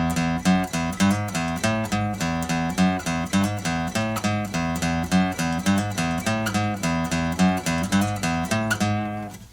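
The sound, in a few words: guitar playing a riff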